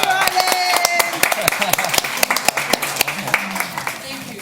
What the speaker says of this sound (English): Can we clap for Alan?